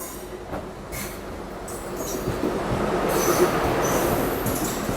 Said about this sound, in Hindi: ट्रेन आ रही है अपनी